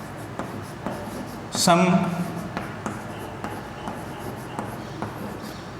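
Chalk or marker writes a geometry formula on a board in a classroom, with short scratchy strokes in a quick irregular rhythm under a teacher's talking.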